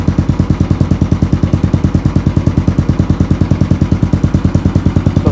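A Royal Enfield Classic 350 BS6 idles through a crash-damaged aftermarket exhaust, giving a loud, steady, close thumping beat with an even rapid pulse and no talking.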